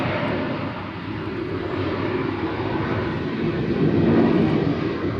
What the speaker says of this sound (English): Sounds like the flight from Appleton has arrived.